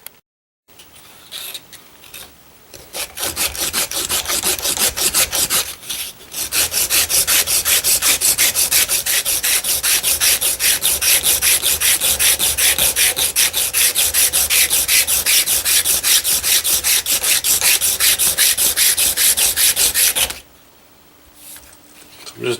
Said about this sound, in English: It's an old belt from my belt sander, and just kind of rounding these over a little bit